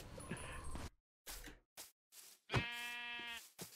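A sheep bleats in a video game, several short cries separated by silence and ending in one longer, drawn-out bleat, close and clear with no talk over it.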